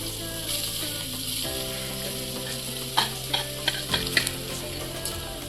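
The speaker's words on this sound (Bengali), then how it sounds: "এখনটাকে আমরা লো ফ্লেমে ভালো করে অল্প ভেজে নেব" Grated coconut fries in a little ghee over a low flame with a soft, steady sizzle, and a few sharper scraping stirs arrive near the end over faint background music.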